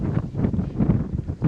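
Strong wind buffets the microphone of a moving SXT electric scooter on a 24-degree day, a loud, continuous low roar with gusting swells and no voices.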